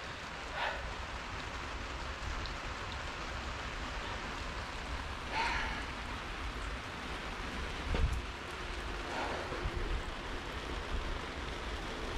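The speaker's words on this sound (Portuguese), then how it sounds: "Chovendo bastante, acaba respingando, tá, pessoal?" Heavy rain falling steadily, a soft continuous hiss with occasional splashes of drops hitting the camera up close.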